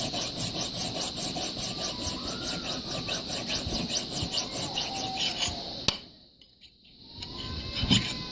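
An axe blade is sharpened with a worn metal file, rasping in quick, rhythmic back-and-forth strokes. A sharp clink cuts the filing off, then comes a brief pause before scraping resumes.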